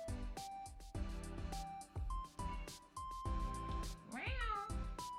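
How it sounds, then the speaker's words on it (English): A house cat meows repeatedly and insistently while begging a person for treats in a home kitchen, its cries rising and bending over steady background music. "My cat is making my roommate give him treats."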